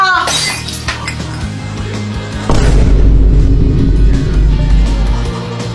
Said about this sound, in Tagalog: Kuya Jepoy, nabasag mo yung base ni Mama.